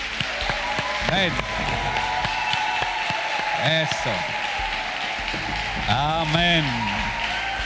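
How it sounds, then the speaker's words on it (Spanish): A charismatic church congregation in Cali, Colombia applauds steadily throughout, a dense wash of clapping with voices calling out over it near the start and end. "con un gran aplauso a nuestro Dios"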